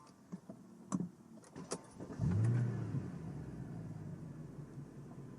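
A Mercedes W211 car engine turns over and catches at once, then idles with a steady low rumble after a few clicks and clunks.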